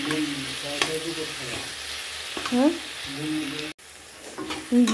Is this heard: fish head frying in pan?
yes